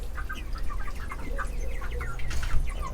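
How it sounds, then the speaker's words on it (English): Chickens kept for home-raised meat cluck and call in a backyard flock, a steady scatter of short clucks over a low rumble of background noise, fairly close and moderately loud throughout. "growing your own meat, your own protein in the form of chickens"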